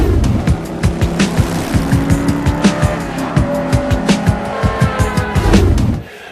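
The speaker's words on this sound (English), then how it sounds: "It gives it a great V8 rumble when you accelerate" A 2008 Jaguar XF with a V8 accelerates hard with loud exhaust rumble and a rising engine note, punctuated by rapid pulsing and some tire noise, close by, before dropping away at the end.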